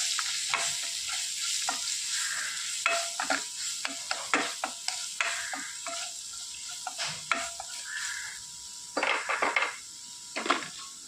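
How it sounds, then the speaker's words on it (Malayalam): Breadfruit thoran with green chillies, pepper powder and spices is stirred in a pan, a spoon scraping and clacking in an irregular rhythm over a soft steady sizzle. "ഇതെല്ലാം കൂടെ ചേർത്ത് ഇതിൻ്റെ പച്ചമുളക് പോളം ഒന്ന് നന്നായിട്ട് മിക്സ് ചെയ്യുക"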